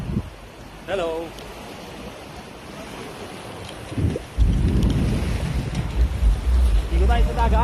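Sea waves and wind roll along a beach at Bacacay, Albay, a rough low rumble that swells loudly midway, with brief voices and shouts over it.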